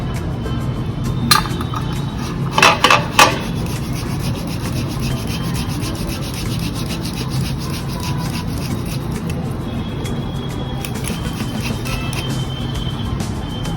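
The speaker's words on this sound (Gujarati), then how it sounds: "મેં પહેલેથી જ 2 મીડિયમ બટાકાને બાફી લીધા છે અને હવે આપણે એને છીણી લઈશું" Two medium boiled potatoes are grated by hand, producing a steady, close rasping scrape that continues throughout, with a few sharp clinks of the grater along the way.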